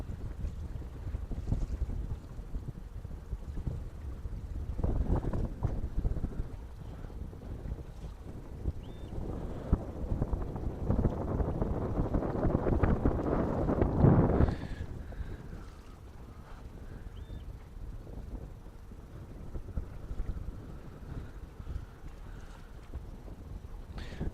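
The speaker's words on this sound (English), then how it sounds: "The wind is blowing." Wind blowing over the deck of a beluga-watching boat, a steady low rumble of gusts buffeting the microphone that swells to a peak around the middle and then eases, with faint knocks and creaks, no talk.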